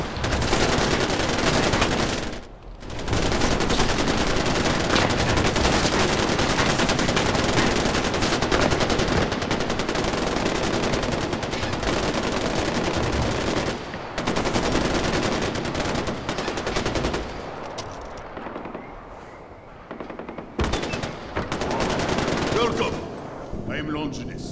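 Sustained automatic gunfire during target practice in Far Cry 4, loud and nearly continuous rattling bursts broken by a few short gaps, with fainter stretches toward the end.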